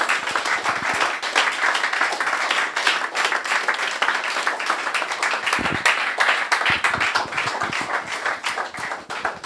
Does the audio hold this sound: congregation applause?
yes